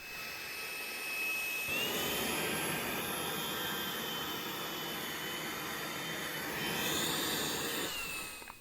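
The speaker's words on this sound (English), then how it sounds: "Super strong suction with max power." A Tineco Pure One S12 Pro EX cordless stick vacuum runs at max suction, a steady loud whine with a rising pitch step as power kicks up, then dropping back near the end.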